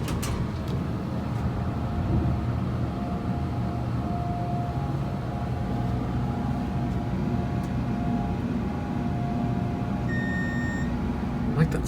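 Steady hum of an MEI hydraulic elevator's motor running at an office building, a constant droning tone with faint electronic beeps near the end.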